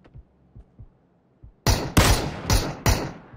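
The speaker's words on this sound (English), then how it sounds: "I'm getting shot from here" Gunfire in the battle royale shooter PUBG: a few faint, distant thumps at first, then five loud, sharp shots in quick irregular succession, each ringing out with a short tail.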